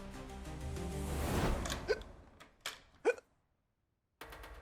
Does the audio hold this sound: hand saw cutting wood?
no